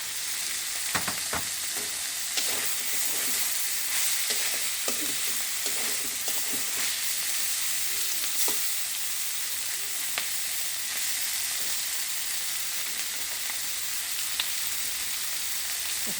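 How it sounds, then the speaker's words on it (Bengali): Fried eggs sizzle in a pan of chichinga (snake gourd) and kakrol (spiny gourd) curry: a steady, close hiss of frying with a few light clicks and scrapes scattered through, and no talking. "এখন বসিয়ে দিচ্ছি ডিমগুলো।"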